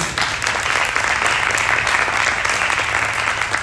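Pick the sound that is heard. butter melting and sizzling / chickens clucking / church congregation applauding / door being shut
church congregation applauding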